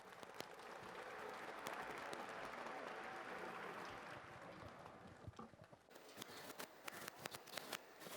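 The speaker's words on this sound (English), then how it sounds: "Can we have a big round of applause for the runners out here?" Applause from spectators for runners at an outdoor cancer awareness marathon in India, a scattered, thin clatter of hands that grows sharper and more uneven toward the end.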